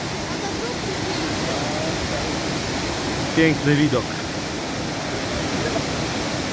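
A steady, full rushing roar of a waterfall in Killarney National Park, Ireland, fills the whole scene, with a voice speaking briefly partway through.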